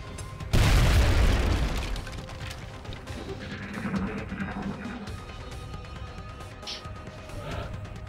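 A single loud, close explosion in XCOM Enemy Unknown blasts through a wall, a heavy boom that rolls off into a decaying rumble with scattered debris and game ambience trailing behind.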